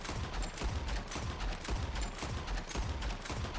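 Gunfire from Red Dead Redemption 2 in Dead Eye slow motion, a rapid, dense series of muffled booming shots repeating roughly every half second against a loud, rumbling background.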